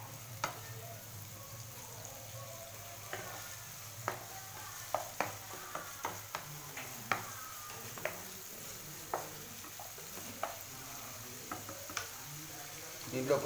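Onions fry in a pan for a chana masala with baby corn, giving a quiet continuous sizzle punctuated by a steady series of light spatula taps and clicks against the pan.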